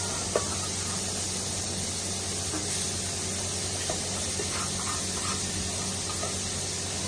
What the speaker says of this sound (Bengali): পেঁপেটা দিয়ে আমি হালকা মতো একটু ভাজা ভাজা করে নেব।